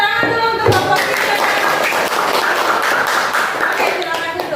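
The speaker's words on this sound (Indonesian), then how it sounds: "semuanya berikan tepuk tangan dulu untuk kelompok 3" A classroom group claps for presenting students, with bright, busy applause from many hands filling the room, starting after a short sharp tap and carrying on steadily.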